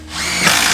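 A power screwdriver drives screws during construction of a new workshop: a brief, close, steady whirring burst that rises slightly in loudness, with no talk.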